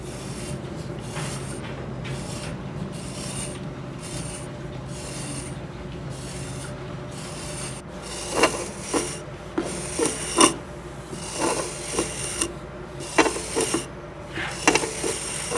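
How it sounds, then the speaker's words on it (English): Marble repair mortar being trimmed and screeded back to profile, a steady dry rasping scrape that gives way to sharper, irregular scraping strokes in the second half, close by with no talk. "Now we're going to start to trim and screed back and get back to closer to profile."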